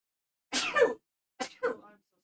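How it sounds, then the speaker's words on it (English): Two separate bursts of sneezing from a man, the first a long loud sneeze and then a pair of shorter sneezes close together, all near and alone. "Multiple sneezes, in fact."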